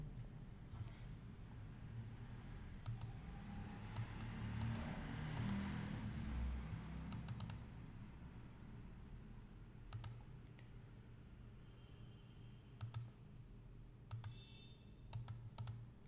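Quiet computer keyboard typing and mouse clicks come in scattered short bursts and single sharp clicks over a low background hum, close and faint, without talk.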